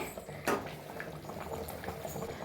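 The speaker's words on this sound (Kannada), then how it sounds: "ಈ ಥರ ಕುದಿಸ್ಬೇಕು" Tomato chicken gravy bubbles in a pot, giving soft irregular blips and pops over a low simmering hiss, close and fairly quiet, with one louder burst near the start.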